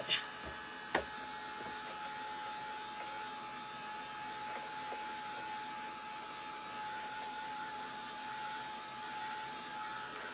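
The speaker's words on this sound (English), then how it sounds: "I think I'm going to run my dryer across it a little bit" A hair dryer blows with a steady whirring hum and a faint whine, after a couple of sharp clicks at the start.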